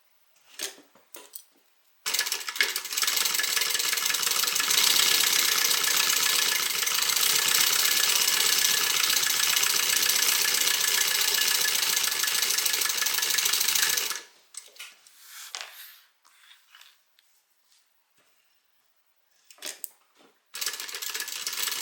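A sewing machine stitching a Harumi bag runs in one long, steady mechanical burst of rapid needle clatter, then stops and restarts with a few short runs, close and fairly loud.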